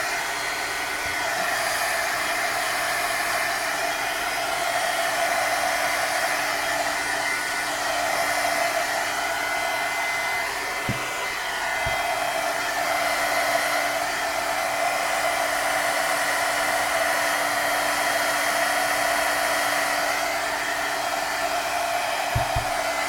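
A hair dryer blows on wet paint on an artwork, a loud, constant close-up whoosh lasting the whole stretch with a brief dip midway and faint bumps, no speech.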